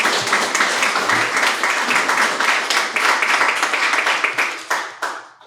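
An audience applauds a panel speaker at a Labour event on electoral reform, with close, brisk clapping from a modest crowd that holds steady and then tapers off near the end.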